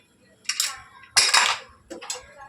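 A spoon lightly mashing cooked dal in a metal pot, three short clinking, scraping strokes in quick succession, close and clear.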